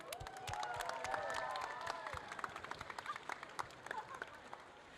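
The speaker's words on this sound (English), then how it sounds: "a round of applause for the one and only Austrian Lady Beard" A convention crowd at a Q&A applauds a performer with faint, distant clapping and some cheering voices, thinning into scattered claps toward the end.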